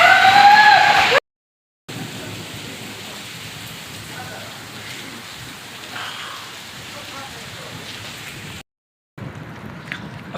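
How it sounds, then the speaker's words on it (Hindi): Heavy rain pours steadily in Balochistan, a dense close hiss of drops on surfaces broken by brief silent cuts, with a harsh louder burst at the start. "ज़बरदस्त बारिश शुरू है"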